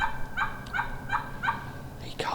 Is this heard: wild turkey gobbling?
yes